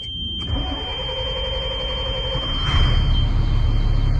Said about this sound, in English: cranking for longer than it should to start